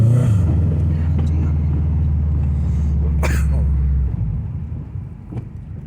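A Subaru with a burned-out performance clutch drives along, its low engine rumble steady and near for about four seconds before easing off, with faint voices in the background.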